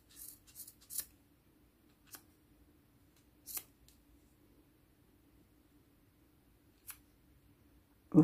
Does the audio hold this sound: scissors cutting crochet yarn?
yes